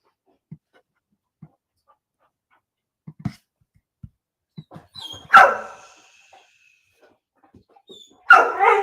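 A dog barks in short, sharp bursts, a few single yips, then two louder barks close by, with quiet gaps between.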